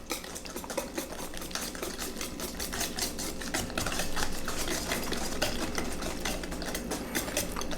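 Pecan pie filling whisked by hand in a bowl, a quick steady rhythm of light metallic clicks and scrapes, close and fairly quiet, continuing without any talk.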